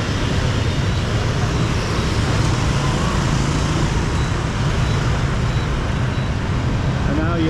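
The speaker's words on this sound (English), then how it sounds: "Now we're going to come out to all this traffic up here." Steady night street traffic in Saigon, Vietnam, with a dense continuous rumble of cars, motorbikes and trucks passing close by, loud and unbroken throughout.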